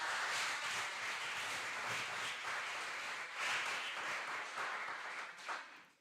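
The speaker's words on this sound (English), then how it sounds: "can you please give a warm applause to our dear colleagues?" A conference audience gives a warm, dense round of applause, steady and fairly loud for several seconds before fading out at the end.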